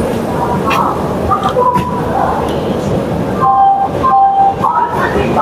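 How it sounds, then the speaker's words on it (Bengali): The Puri-Howrah Shatabdi Express pulls out of Chandpur Keonjhar Road station with a loud, steady rolling rumble and brief tonal squeals from the wheels, with voices murmuring underneath. "চাঁদপুর কেওনঝাড় রোড থেকে ট্রেনটা ছেড়ে দিল।"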